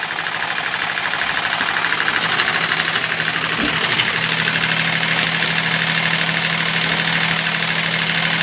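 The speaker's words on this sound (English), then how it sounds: "There goes the compressor again." An air compressor in a home machine shop hums and thumps loudly and continuously nearby, a steady low mechanical drone with a rapid pulsing rhythm.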